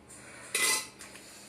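A utensil clinks and scrapes against a metal pot while mutton is stirred into water, one brief bright clatter followed by a fainter tap, close and alone.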